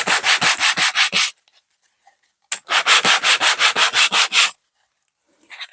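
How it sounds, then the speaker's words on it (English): MDF terrain building pieces sanded by hand, heard as two loud, close bursts of rhythmic back-and-forth rubbing strokes split by a short pause, with no talk. "just give these a bit of a sand"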